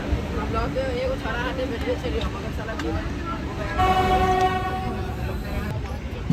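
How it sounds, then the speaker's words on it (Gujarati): A train rumbles steadily on the tracks as it departs Ahmedabad Kalupur railway station, and a long horn blast sounds partway through over the continuous rolling noise. "અમદાવાદ કાળુપુર રેલવે સ્ટેશનથી ગાડી ઉપડી ગઈ છે"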